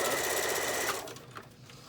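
Close, steady whir of a sewing machine running a straight stitch on a face mask, then quickly stopping and leaving faint handling noises.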